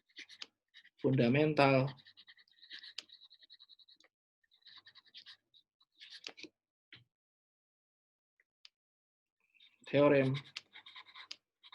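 Lecturer writing calculus notes, with intermittent scratchy strokes and short bursts of marking close to the microphone between two brief spoken phrases.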